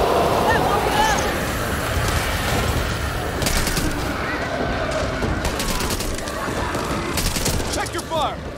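Gunfire in the Back 4 Blood video game, dense bursts of automatic shots crackling continuously over a busy battle ambience with louder clusters midway through.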